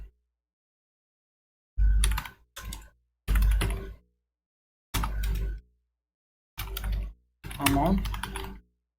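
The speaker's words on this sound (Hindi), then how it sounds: "यहाँ पे नरेशन टाइप कर देते हैं।" Narration being typed on a computer keyboard in Tally Prime accounting software, heard as loud, rapid bursts of close keystrokes separated by clean silences.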